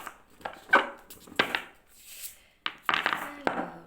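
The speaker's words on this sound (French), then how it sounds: "je suis pas du tout une pro pour le mélange des cartes" Tarot cards being shuffled by hand in several short bursts of soft riffling and slapping, close and fairly quiet, with a sharper flurry near the end and no talking.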